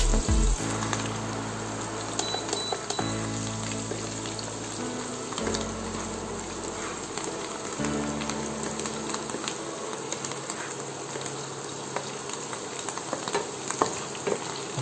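A steak fries in a hot pan, giving a steady, close, crackling sizzle that runs throughout with small shifts in intensity.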